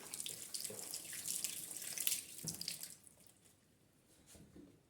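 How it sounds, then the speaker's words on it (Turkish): Tap water runs into a sink during hand washing, a close steady splashing stream for about three seconds that then fades to soft trickles and drips. "Önce elimi bir yıkayayım."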